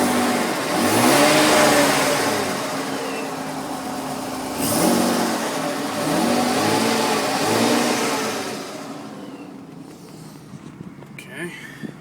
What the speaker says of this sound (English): Borla exhaust. See if you can hear that.